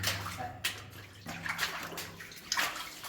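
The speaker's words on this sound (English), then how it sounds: "we broke the seal and like the water's flowing out" Water running and sloshing inside an old Cornish tin mine, a steady broadband wash with a few louder surges, close and continuous with no talk.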